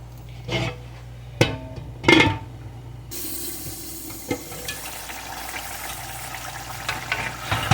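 Rohu fish curry with poppy seed paste, ridge gourd and potato bubbling in a pan, with a few stirring clinks and scrapes over a steady soft simmer, no talking.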